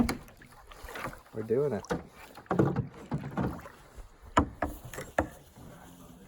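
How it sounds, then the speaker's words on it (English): A canoe moves across Bearskin Lake in the Boundary Waters, with close knocks and water swishes from paddling mixed under steady conversation between people aboard. "we're in the canoe for the first time"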